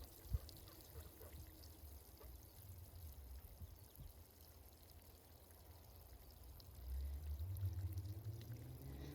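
A watering can soaks garden plants, a continuous soft pour of water onto soil that is faint and steady throughout and swells slightly louder near the end, with no talking.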